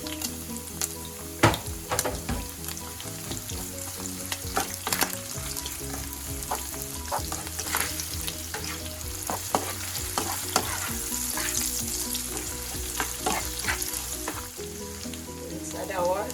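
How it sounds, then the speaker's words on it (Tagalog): Onion sizzling and frying in a hot pan for a Filipino ginisang gulay vegetable dish, a steady crackling hiss with scattered sharp pops and occasional utensil clinks, no talking. "Let's add our onion."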